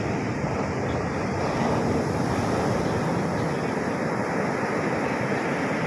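Big ocean waves at sea, heard from a fishing boat out in rough water, with a steady, loud roar of surf and wind buffeting close to the microphone throughout, and no talk.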